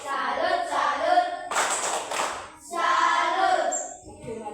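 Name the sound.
schoolchildren doing a clapping salute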